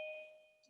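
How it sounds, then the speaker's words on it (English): A single electronic doorbell chime rings out, two clear steady tones sounding together and fading gradually in a quiet room. "Just to show it's live, that's my doorbell."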